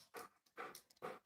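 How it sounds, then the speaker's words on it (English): A dog pants and whimpers excitedly in three quick, breathy bursts, fairly faint and close, with no talk over it. "Oh, that's the dog."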